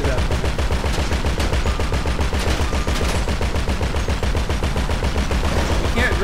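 Rapid automatic gunfire rattles nonstop in GTA 5 Online, dense and loud bursts of machine-gun shots with occasional distinct pops layered over the steady barrage.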